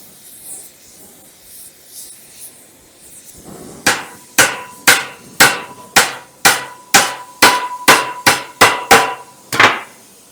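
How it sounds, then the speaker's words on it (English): Steady, ringing hammer blows on torch-heated steel, about a dozen evenly spaced strikes, loud and close, after a soft hissing lead-in, while bending a Dodge Power Wagon frame rail. "I'm gonna heat her up with a torch real good, whoop on it with a hammer and bend it."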